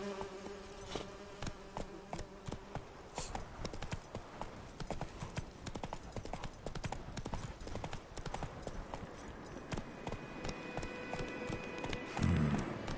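Roach, Geralt's horse in The Witcher 3, gallops with steady, rapid clip-clop hoofbeats over a busy game soundscape of music and ambience, with a louder thump near the end.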